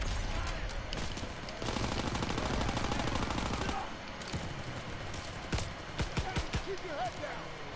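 M1 Garand rifle fire in a WW2 campaign video game, with loud gunshots and fusillades from the player and others, a sustained barrage early, then scattered sharp single shots, and voices talking over the shooting.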